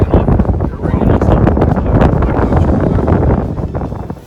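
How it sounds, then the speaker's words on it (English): Strong wind on Springer Mountain buffets the microphone in loud, rumbling gusts that roar continuously throughout. "It is cold and windy"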